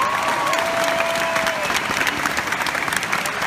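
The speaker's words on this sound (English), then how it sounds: "Let's have a round of applause for them as well." A crowd applauds in tribute to armed forces who served in Iraq and Afghanistan. The sustained, even clapping runs with a faint tonal cheer or whistle near the start.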